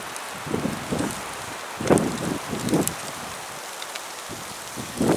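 Gusty windstorm roars outdoors on a cold winter day in a steady broadband rush, with louder surges coming and going and a few soft thuds underneath.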